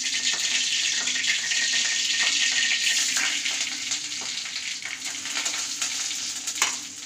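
Mustard seeds sizzle and crackle in hot oil for tempering during a Tamil cooking contest, a steady bright frying hiss with scattered pops, close and continuous with no voices.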